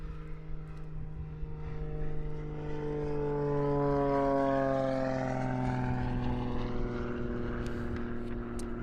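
An unlimited-class aerobatic propeller plane flies during a competition, its engine drone rising and sweeping in pitch as it passes fairly close, then fading slightly, with no talk.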